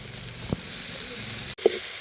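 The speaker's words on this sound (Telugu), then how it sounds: "ఇప్పుడు ఇది బాగా ఫ్రై చేసుకోవాలి" A tomato and coriander chutney mixture fries in a pan with a steady low sizzle, marked by a couple of short utensil knocks and a sharp click near the end.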